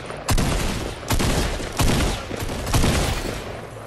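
Rapid bursts of pistol fire from a video game, four loud volleys spaced about three-quarters of a second apart over a constant background din, with no talking.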